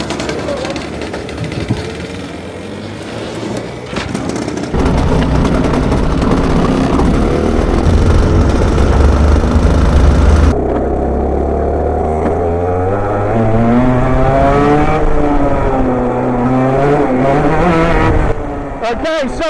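Home-built go-kart from a barn-find kart build, its small engine running and then revving in rising and falling sweeps, loud and close, with a change in engine note partway through.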